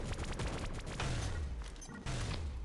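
Rapid bursts of gunfire in the mobile shooter Pixel Gun 3D fill the whole stretch, dense and loud with booming low thumps and crackling shots, nearly continuous with no speech.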